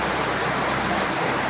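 Middle falls of a waterfall along a highway during moderate spring water levels, a loud, constant rushing roar of falling water heard up close without voices.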